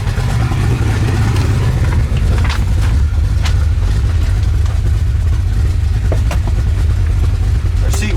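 A 1966 Ford Mustang engine idles steadily and close by, a dense low rumble running unbroken throughout with a few faint clicks and knocks over it.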